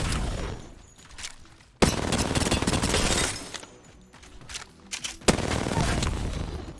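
Rapid bursts of automatic gunfire from a weapon in the video game Apex Legends, loud and close, two long sustained volleys with sharp onsets separated by quieter gaps.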